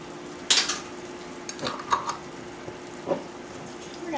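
Syrup and molasses being stirred in a pan: a few scattered scrapes and light clinks of a utensil against the pan over a faint sizzle, close and sparse with no talking.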